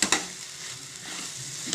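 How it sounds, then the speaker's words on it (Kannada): Spice powders, including Kashmiri byadgi and red chilli powder, fry gently in a pan on a low flame, a soft continuous sizzle with a couple of light spatula scrapes at the start and end, close and alone. "ಸ್ಟವ್ನ ಸಿಮ್ಮಲ್ಲಿ ಇಟ್ಕೊಂಡು ನಾನು ಈ ಥರ ಫ್ರೈ ಮಾಡ್ಕೊಳ್ತೀನಿ"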